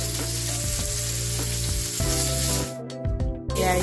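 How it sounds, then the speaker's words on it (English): Prosciutto-wrapped chicken sizzles loudly in a frying pan as it browns, a constant crackling fry close up with a few stirring movements and no talk. "So you're going to brown it each side 2 to 3 minutes."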